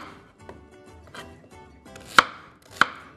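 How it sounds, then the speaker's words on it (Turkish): A knife chopping food on a cutting board while dicing ingredients for a Turkish lentil köfte and beef liver dish; a few spaced, close chops, the last two sharp and loud, with no talk. "şöyle bir dilimliyoruz ve İri kuşbaşı şeklinde doğruyoruz"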